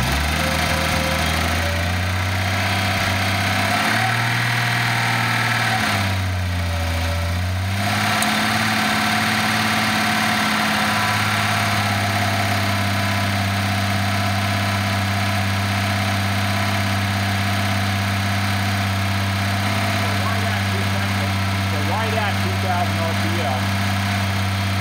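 A Datsun 280ZX turbo engine runs steadily at a fairly loud level, its drone rising slightly in pitch as the car speeds up, with a brief dip around the middle and no talking over it.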